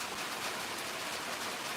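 Rain falls in a steady, close, even hiss for a brief stretch, a constant broadband wash with no voices or other events.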